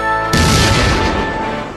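A loud explosion effect bursts in suddenly over a sustained musical tone, then rumbles and slowly decays.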